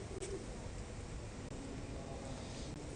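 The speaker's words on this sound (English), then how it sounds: "These are the Edo era pigeons." Pigeons cooing outside Matsudo station in Japan, soft low coos heard amid a steady hiss of outdoor background noise.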